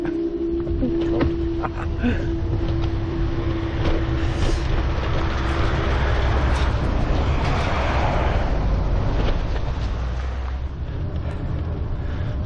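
A train rumbles past nearby, loud and continuous, with low mechanical roar, a brief tonal whine early on, and wind buffeting the microphone.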